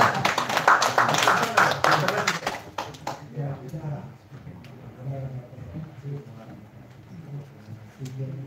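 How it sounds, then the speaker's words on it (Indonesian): An audience applauds at an evening group presentation, a dense burst of clapping for about three seconds that fades out, followed by quieter murmuring voices. "Aplaus untuk kita semua."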